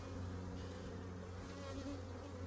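Honey bees at an open hive give a steady, dense buzz that carries through the whole stretch at an even level, close and unbroken, with no talk.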